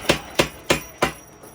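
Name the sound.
power hammer forging high carbon steel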